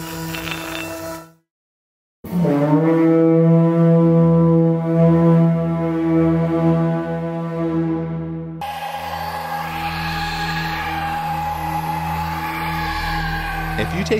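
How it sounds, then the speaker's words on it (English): Atmospheric tones from the free Rasa software instrument: a brief tone, a short silence, then a sustained, layered harmonic drone that swells and shifts into a brighter, textured pad, loud and alone. "The second is Rasa, and this is gonna be perfect for atmospheric sounds,"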